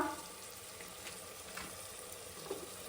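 Masala fries in a pan with chili powder and biryani masala stirred in, giving a soft, steady sizzle with faint scraping, quiet and close, with no one speaking.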